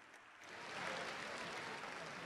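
Applause from the audience at the closing of the World Tango Championship final, offered in remembrance of an artist: a broad, steady wash of many hands clapping that swells slightly and holds, fairly quiet and continuous.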